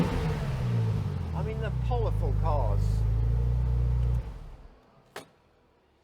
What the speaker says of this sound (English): This one's had some sort of sport exhaust fitted, so it's got a really nice burble.